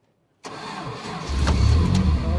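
A GAZ-69 car engine cranks and catches close by, settling into a steady loud idle with a low rumble after about a second.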